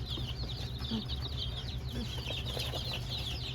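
Chickens cluck in short bursts amid a busy farmyard din, with bird chatter and a steady low hum underneath.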